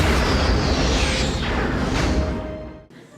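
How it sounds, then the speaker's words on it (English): Deep booming explosions rumble and whoosh from a space battle in the film Star Trek: First Contact, a sustained loud roar that fades out near the end. "So we get a couple of explosions in space in this movie"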